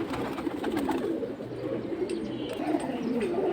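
Large pigeons at a bird market coo steadily in a low, continuous murmur, many birds close together with no talk over them.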